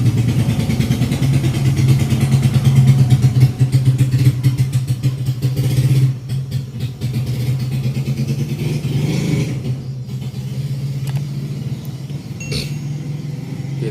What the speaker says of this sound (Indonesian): kita nunggu motor lewat dulu